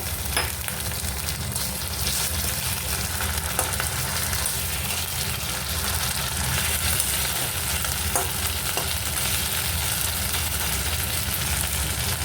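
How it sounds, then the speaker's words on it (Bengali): Ground ginger paste sizzles with browned onions in a pan, a steady continuous frying hiss with occasional stirring scrapes, close and fairly loud throughout, with no talking. "আদাটা দিয়ে খানিক্ষণ একটু কষে নেব"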